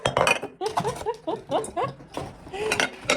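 Kitchen lids and a baking dish clink together as they are unpacked, with a string of close, bright knocks and rattles while someone talks over them.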